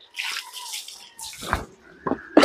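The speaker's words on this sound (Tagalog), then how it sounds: "Ibanlawan na kanyang baboy para dumaloy sa semento ang tubig na mula sa kanilang katawan." Water splashing over pigs and a concrete pen floor during a rinse, bursts of spraying and pouring at close range, with pauses between.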